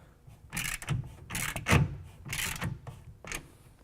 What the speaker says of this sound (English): I'm going to go ahead and tighten down that clamp.